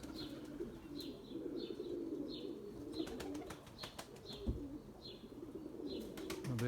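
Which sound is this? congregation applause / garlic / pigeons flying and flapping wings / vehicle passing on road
pigeons flying and flapping wings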